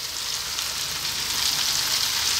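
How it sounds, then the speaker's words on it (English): Chopped kale stir-frying in a hot pan for vegetarian chili, giving a steady, close, even sizzle with no voices. "We're just going to stir fry this around for about 5 minutes."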